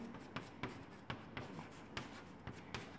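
Pen or marker strokes write out an equation by hand, close and crisp, with quick scratchy strokes punctuated by sharp taps at irregular intervals and no talking.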